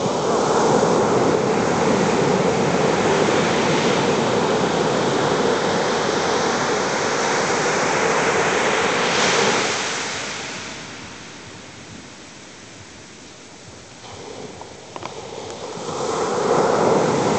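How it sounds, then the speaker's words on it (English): Ocean surf on Banderas Bay at Puerto Vallarta, Mexico, as the tide comes in: a steady loud wash of breaking waves that eases into a quieter lull before the next surge builds, with no voices. "the tide, she's coming in."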